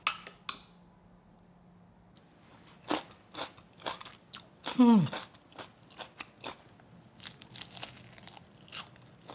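Crunchy Korean yangnyeom fried chicken, spicy, sweet and tangy, being bitten and chewed up close, with scattered crisp crackles and crunches spread over several seconds and one louder bite partway through, amid quiet pauses.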